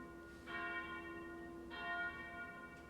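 Church bells ring out in two separate rich, harmonic strikes, each one sustained and slowly decaying against a quiet background.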